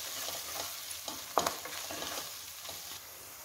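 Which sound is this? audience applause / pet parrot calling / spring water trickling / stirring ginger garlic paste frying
stirring ginger garlic paste frying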